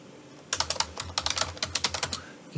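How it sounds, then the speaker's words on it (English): Quick bursts of keystrokes on a computer keyboard while entering text into a spreadsheet cell, a close, crisp patter of clicks with brief pauses between runs. "Let's start by typing in cell A1"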